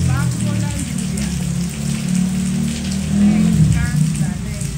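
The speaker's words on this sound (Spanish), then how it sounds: "bañándose bajo la lluvia" Steady, heavy rain falls and patters on surfaces where a small hummingbird bathes, a dense continuous hiss that swells slightly in places.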